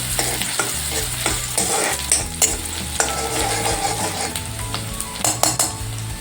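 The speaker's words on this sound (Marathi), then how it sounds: "तर आपला कांदा बघा छान परतला" Onion sautés in a pan, with a bright constant sizzle broken by frequent rhythmic scraping and clacks of a spatula against the pan, close and fairly loud.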